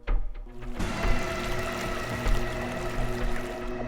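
Water gushes and splashes from a tap in a haunted mansion, a continuous running flow with uneven surges of louder splashing.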